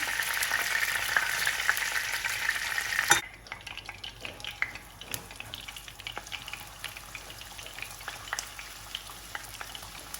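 Village peppers fry in a pan, starting with a loud dense sizzle that drops sharply after about three seconds to a softer crackle with scattered pops and spatters.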